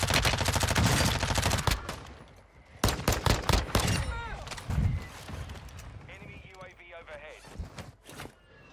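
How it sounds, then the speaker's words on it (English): Mortar strike explosions thud and crackle in Warzone, mixed with rapid gunfire and heavy impacts, loud and close at first, then thinning out while a voice talks over the chaos. "Hostile mortar strike."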